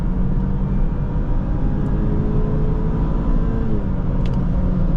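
A 2023 BMW X3 30i xDrive engine hums with a steady low drone from inside the vehicle, its pitch rising as it accelerates, with no voices.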